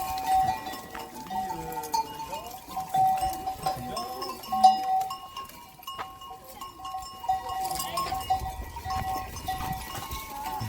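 Goats bleating intermittently at a farm roadside, with the clank of cowbells and rustling movement, under scattered casual talk.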